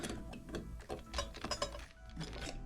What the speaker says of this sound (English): Put this screw back in. Use the screwdriver, make it tight.